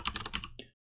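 Quick keystrokes clatter on a computer keyboard, a short close burst of several clicks in a row before falling silent.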